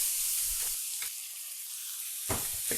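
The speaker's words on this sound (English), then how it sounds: "I'm gonna scrape up all this fond." A hot pan sizzles loudly and close while a utensil scrapes up browned fond, the hissing fry broken by rough scraping bursts near the start and end.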